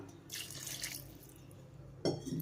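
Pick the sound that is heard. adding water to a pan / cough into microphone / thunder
adding water to a pan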